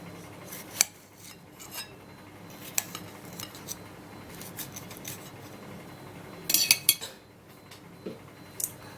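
Knife cutting ingredients for a tomato juice drink, heard as sparse clinks and scrapes of a blade against a board or dish, with a small burst of rapid metallic clatter near the end, close and fairly quiet with no talking.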